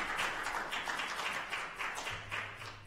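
Applause at a Houston city council public session, with dense, steady clapping from a crowd that holds at a fairly even level for about three seconds, followed by a low hum near the end.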